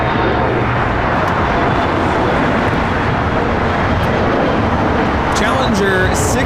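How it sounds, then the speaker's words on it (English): Jet noise from a Challenger 605 taking off at LAX roars steadily and loud throughout, a broad rumble with whining tones near the end; it fills the whole stretch with no talk over it. "Challenger 605 taking off."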